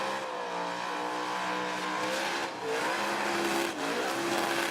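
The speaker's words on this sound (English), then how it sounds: "Heaps of smoke on that burnout." Car burnout at a Red CentreNATS show in Australia, a loud sustained engine howl with rising and falling revs and tyre squeal, heard from a distance without commentary.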